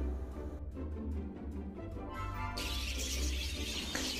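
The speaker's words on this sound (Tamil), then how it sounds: "இங்கே உள்ளது எல்லாமே டிஃப்ரெண்ட் வெரைட்டியான பறவைகள் தாங்க இருக்கும்." Many birds and parrots of different varieties chirping together in a large bird park in Thanjavur, a dense, continuous chatter of calls at close range with no talk.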